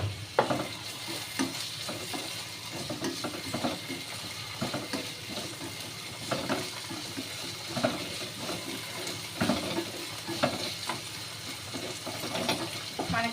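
Onions, tomatoes and curry leaves frying in a pan, a constant soft sizzle broken by repeated scraping stirs of a spoon against the pan at a steady rhythm, close up with no talking.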